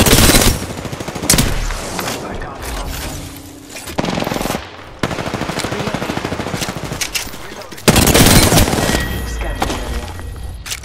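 Bursts of automatic weapon fire in the video game Apex Legends, loud rapid volleys separated by short pauses, with a brief voice line between exchanges.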